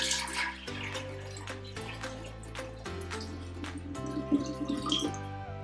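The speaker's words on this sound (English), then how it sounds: "carefully pour this sweet tea mixture into your giant jar" Sweet tea mixture pours steadily into a giant jar with a faint trickling splash, set against a soft background of tonal music.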